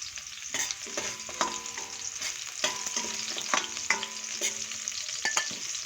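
Pork bopis sautés with garlic and onion in hot oil, a steady close sizzle broken by regular scraping stirs of a utensil across the pan, roughly one every second.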